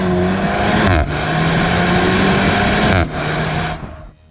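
A Renault Megane RS hot hatch launches under launch control with a loud, close engine roar, rising through gears with brief dips at shifts before easing off at the end, no voices.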